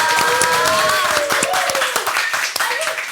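Audience clapping and applause at a live entertainment show, a steady dense patter of hands with some cheering voices and tonal music or vocal lines running through it.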